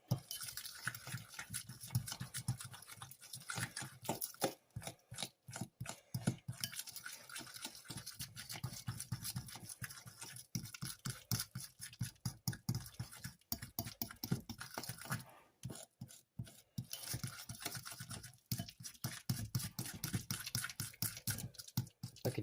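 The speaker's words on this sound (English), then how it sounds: "And then we mix again." Thumbprint cookie dough, with a pinch of salt just added, is stirred in a bowl with quick, rhythmic scraping strokes, close and fairly quiet, in short bursts with brief pauses and no talking.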